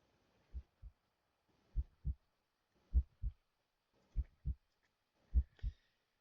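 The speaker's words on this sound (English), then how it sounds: "You feel like you can hear your heartbeat." A video game heartbeat effect thumps in slow, deep lub-dub pairs, five double beats evenly spaced and quiet, heard alone against silence.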